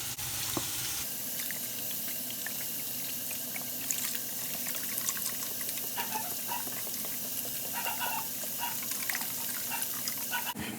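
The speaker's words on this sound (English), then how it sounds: "we're gonna go crazy and just pour the whole entire thing of vegetable broth in" Vegetable broth pours steadily into a pot with a running, splashing sound for several seconds, close by, with faint clinks and kitchen noises over it.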